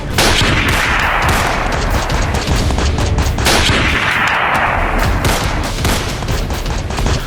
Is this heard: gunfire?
yes